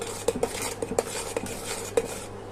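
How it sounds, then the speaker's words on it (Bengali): Cold coffee mixture made with coffee powder is stirred briskly, a utensil clinking sharply against the container several times over a soft swishing of the thickening liquid. "এইভাবে নেড়ে নেড়ে একটু ঘন করে নিতে হবে।"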